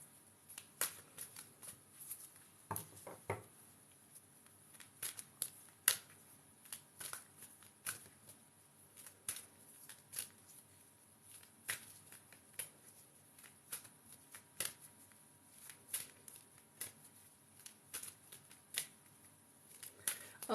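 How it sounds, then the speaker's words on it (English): A deck of angel cards is shuffled by hand, soft repeated riffling and flicking sounds in quick irregular bursts, close and quiet, continuing throughout with no talking. "let's shuffle these angel cards"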